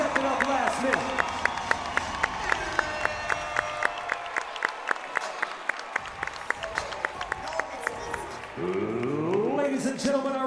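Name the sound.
crowd applause at cage fight event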